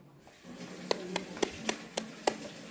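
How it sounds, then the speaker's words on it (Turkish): A handful of sharp hand claps ring out one by one at an uneven pace, close and distinct, with quiet room murmur underneath. "Alkış."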